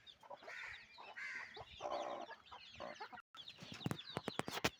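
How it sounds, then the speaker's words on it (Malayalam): A mother hen clucks steadily among her six chicks outdoors, her low rhythmic clucks mixed with the chicks' high cheeping at close range, ending in a run of sharper, louder calls. "ഇതാ വേറൊരു തള്ളക്കോയും അതിൻ്റെ 6 മക്കളും കേട്ടോ"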